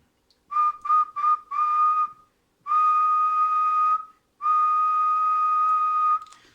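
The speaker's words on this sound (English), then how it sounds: "if I give a whistle" A person whistles into a radio microphone: three short bursts, then one held note and two long sustained tones with gaps between, clear and close with no talk.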